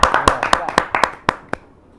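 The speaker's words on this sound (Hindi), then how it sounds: "जोरदार ताली के साथ नेहा शर्मा" Scattered hand claps at a Kavi Sammelan poetry gathering, a handful of sharp separate claps in an uneven rhythm that thin out and stop, rather than full applause, with background murmur between them.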